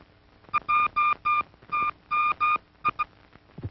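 Telephone circuit cross-ringing heard as a series of short electronic ringing tones, steady and evenly pitched, grouped in uneven pairs and singles, fairly close and alone.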